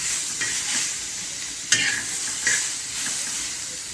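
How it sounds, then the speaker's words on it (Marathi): Steady sizzling of onions and spices frying in a hot iron pan while making chicken, with a few louder scraping stirs breaking through the continuous hiss. "मसाला भाजून घ्या"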